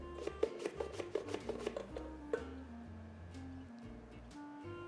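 A white onion is sliced very thinly on a mandoline, a quick run of about nine crisp, evenly spaced strokes, then one more after a pause, close and clear over quiet background hum.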